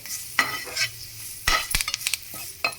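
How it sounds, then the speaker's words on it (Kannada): Curry leaves spluttering in hot ghee in a pan make a close, uneven sizzle with sharp pops and stirring clatter, in short bursts with no talking. "ಕರ್ಬೇವಿನ ಸೊಪ್ಪು ಹಾಕ್ಕೊಂಡ್ಬಿಟ್ಟಿದ್ದೀನಿ ನೋಡಿ ಇದು ಅಷ್ಟೇ ಪಟ್ಪಟ ಅಂತ ಅಂದು"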